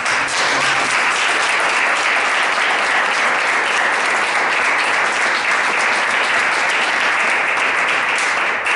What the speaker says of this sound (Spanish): Y un aplauso para...